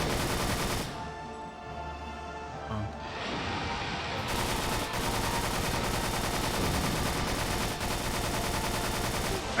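Continuous loud gunfire from the PS2 game Extermination, rapid shots blending into a dense barrage during a fight with a large creature, with no speech.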